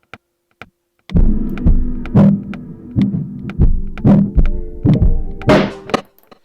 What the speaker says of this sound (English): I'm just going to mess around with the drums